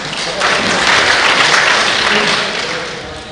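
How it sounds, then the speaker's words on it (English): Steady, loud applause from an audience at a public speaking competition. The clapping is dense and continuous, swells after a moment and then eases slightly, and no voices come through it. "once again, clap for us"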